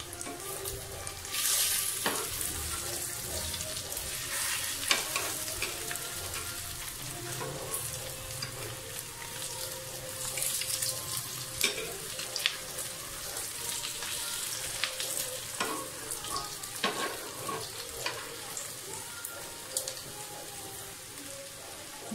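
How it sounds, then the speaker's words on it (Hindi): Beef shami kababs sizzle and crackle in oil on a flat griddle, a dense continuous spitting hiss with occasional sharper pops and scraping knocks as the patties are flipped over. "ये देखें, मैं अपने कबाब पलट रही हूँ।"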